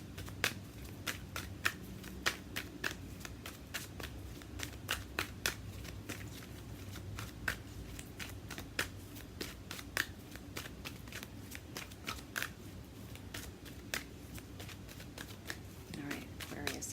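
A deck of angel oracle cards is shuffled for a tarot-style reading, producing steady, rapid riffling clicks and soft card slaps that run close and continuous throughout, with a low background hum.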